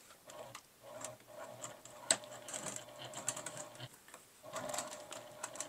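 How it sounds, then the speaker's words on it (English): A sewing machine stitches through a thick clear vinyl pouch with a zipper in quick ticking bursts of needle strokes, pausing briefly between runs, close and fairly quiet with no talk. "Okay, so off to the sewing machine."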